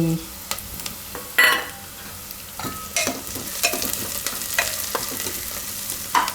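Onions and green garlic frying in a pan, with a steady sizzle broken by brisk scraping stir strokes and clicks, close and loud, no talk.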